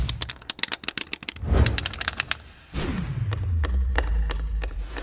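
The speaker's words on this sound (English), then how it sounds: "That's the sound of the Mini MagnaTab." A Mini MagnaTab magnetic stylus snapping small metal balls into place: a quick run of sharp, close clicks, then a few scattered clicks over a soft rattling rumble.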